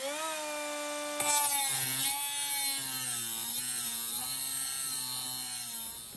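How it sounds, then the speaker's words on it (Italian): A 12 V brushless cordless 76 mm angle grinder cuts through 3.5 mm aluminium, its high motor whine starting abruptly and holding steady with slight wavering pitch as the disc bites, close and loud throughout. "Ovviamente taglierò sempre fin dove mi consente di arrivare alla profondità di questo tipo di smerigliatrici"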